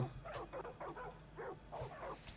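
A dog barks and yips repeatedly in quick bursts, fairly faint over a low steady background hum.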